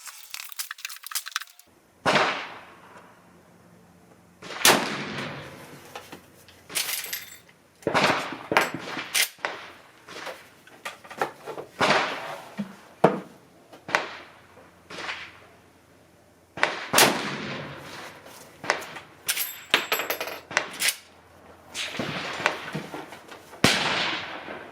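A Henry X .45-70 rifle firing cheap 300-grain Winchester rounds at a 50-yard target: loud, sharp reports with ringing decays, repeated many times at irregular intervals, with no talking.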